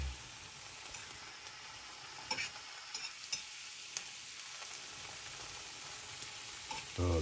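Mushroom spaghetti sauce made with puffball mushrooms is stirred and folded in a sizzling pan, with a steady frying hiss and soft scraping spoon strokes throughout.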